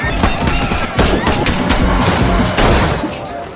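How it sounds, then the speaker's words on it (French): Chaotic bursts of gunfire crack and thump repeatedly amid loud, cluttered noise, with shouting voices partly buried in the din. "Tir de coup de feu, véhicule suspect immobilisé"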